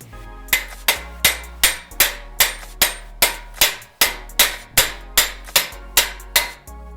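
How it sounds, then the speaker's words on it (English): A hammer strikes a nut threaded on a Nissan 240SX rear CV axle in a garage, about fourteen sharp, ringing metallic blows at a steady rhythm, close and loud with no talking. "you can actually hit this with the hammer to pop it out"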